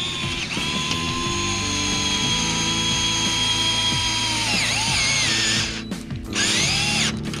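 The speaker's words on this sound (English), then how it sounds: "It's powerful enough to cut into the molium." A Dewalt gyroscopic cordless screwdriver drives a screw into molding, its motor whirring loudly and steadily for about six seconds before a brief stop and restart, with no talking.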